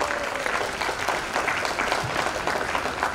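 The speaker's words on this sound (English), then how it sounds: "Let's clap for these new doctors from the Department of Community Medicine." A crowd at a postgraduate MD/MS convocation and memento ceremony claps for new Community Medicine doctors, a steady, fairly loud wash of many hands sustained throughout, with faint murmuring beneath.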